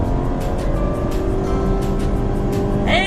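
A 2015 VW Jetta engine held near its redline in second gear, a steady, loud, sustained drone with constant pitch and road rumble throughout, no voices.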